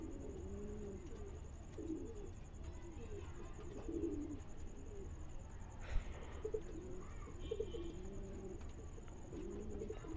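Madrasi pigeons coo softly and repeatedly in a steady low rhythm, fairly faint and continuous, with a thin constant whine and occasional small clatters around them.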